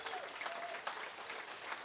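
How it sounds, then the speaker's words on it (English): A closing ceremony audience claps for event volunteers, a faint, distant wash of applause with scattered sharper claps and a brief voice at the start. "so please, a round of applause"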